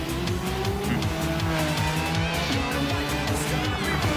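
Race cars scream around a track in Australia during the last lap of a racing video game, with loud, continuous engine whine, shifting pitch and tire squeal, and no talking.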